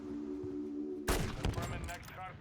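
Full-auto gunfire in Call of Duty breaks out suddenly as a loud, dense burst of rapid shots after a quiet moment, then fades into a short ringing tail.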